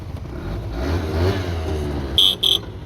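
Two short electric horn beeps from a Honda Dio scooter with no battery installed, high and buzzy, following a low engine-like rumble with a brief gap between them.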